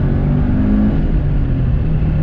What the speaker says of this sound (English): second gear, rolling on throttle,